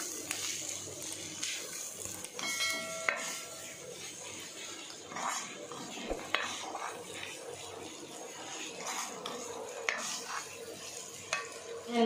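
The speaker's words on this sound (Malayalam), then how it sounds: "നല്ലതായിട്ട് ഇളക്കി കൊടുക്കുക." Bellary beef frying in a pan is stirred steadily, with a soft continuous sizzle, occasional scrapes and clinks of the utensil against the pan, faint and close-up with no talking.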